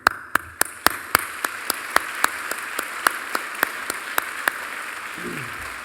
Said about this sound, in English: For this, we applaud you.